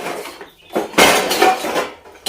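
Metal pots, pans and utensils clatter loudly in bursts, with a sharp crash of dishes followed by rattling, then another clang near the end, close and with no talk over it.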